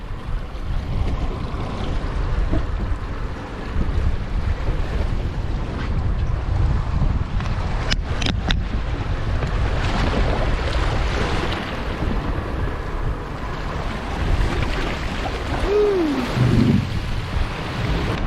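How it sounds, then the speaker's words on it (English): Steady wind roar and sloshing waves around a small boat on a rough Pacific sea, continuous and loud, with heavy wind buffeting on the microphone and a few brief knocks partway through. "Got some waves going on today. The wind is definitely pushing today, so a little bit of a squirrely ride out here."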